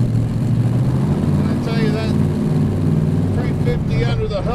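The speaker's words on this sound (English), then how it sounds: "Go through that water nice and slow." A 1929 Ford Model A street rod with custom mufflers rumbles slowly through water, its low engine burble steady and close, with splashing and a voice talking over it.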